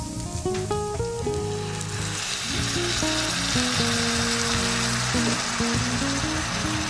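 Ground beef and broccoli stir fry sizzling loudly and steadily in a hot pan as sauce goes in, with a continuous crackling fry and soft music tones underneath.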